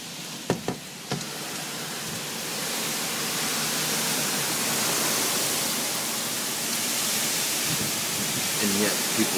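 Heavy rain from Hurricane Irene pouring outside a flooded porch, a loud dense steady hiss that swells and holds, with a few knocks at the start and faint voices at the end.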